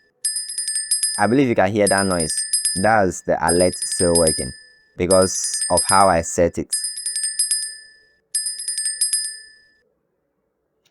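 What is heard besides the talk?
TradingView price alert sound ringing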